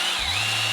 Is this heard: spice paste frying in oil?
no